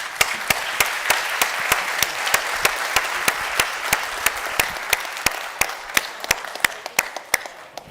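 An audience applauds a panel at the end of a football discussion event, with sustained clapping across the room and sharper individual claps standing out.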